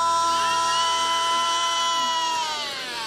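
A church congregation at a worship service cheers and shouts together, a loud, steady crowd roar with a sustained tone that holds throughout, then eases slightly at the end.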